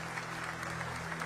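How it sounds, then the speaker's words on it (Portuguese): A church congregation applauding during a service, a steady wash of clapping heard briefly and somewhat distant, with a low sustained keyboard tone beneath it. "os que podem, tomem seu assento aplaudindo a Jesus"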